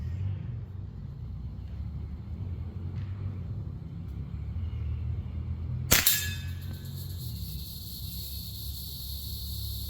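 A PCP air pistol fired once without its moderator in a backyard: a single sharp, fairly loud crack midway, with a bright ringing tail, over steady low outdoor rumble.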